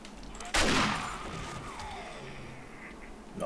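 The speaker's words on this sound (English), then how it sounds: "Shotgun." A single loud shotgun blast fires in the 7 Days to Die video game, with a sharp onset and a long decaying boom that trails off for several seconds.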